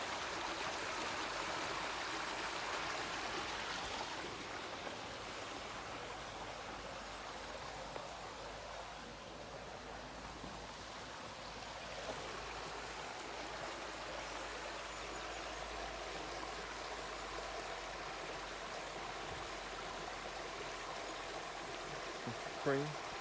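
A steady broadband rush of a flowing spring stream runs throughout at moderate level in Three Houses Park, St. Philip, Barbados, with faint voices now and then beneath it.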